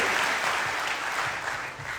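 A crowd at a training seminar claps in steady, dense applause that continues throughout.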